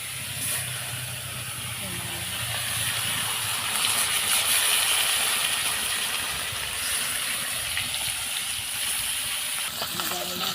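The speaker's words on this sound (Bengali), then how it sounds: "মাছগুলো ভেজে নেবো।" Freshly caught local koi fish fry in hot oil, a continuous bright hissing sizzle that swells and holds steady at close range, with a voice talking intermittently over it.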